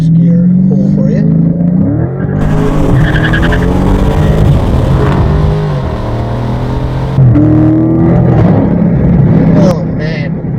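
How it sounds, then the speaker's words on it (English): A 2015 Dodge Charger Scat Pack accelerating hard in first gear, the loud V8 note climbing steadily in pitch with a brief tire chirp, then dropping back before rising again close to the listener. "It's a good opportunity to test out first gear pull for you."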